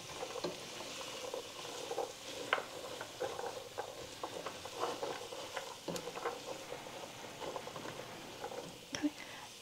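Vegetables sautéing in a pot for a cheesy broccoli and cauliflower soup, a steady close sizzle with soft stirring scrapes and occasional pops running throughout.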